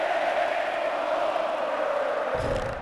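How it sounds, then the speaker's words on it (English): Wrestling arena crowd in the WWE Mayhem video game, a sustained loud cheering roar that swells steadily, with a brief thump near the end. "Oh, do you hear that crowd? A capacity crowd is here tonight."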